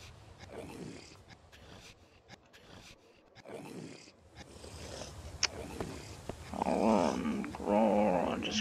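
A dog in the survival game Mist Survival growls low and rumbling through several bursts, getting louder and more intense toward the end.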